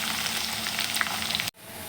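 Mustard seeds, cumin and green chilies frying in oil for tamarind pulihora, a dense close sizzle that cuts off sharply, then returns more softly.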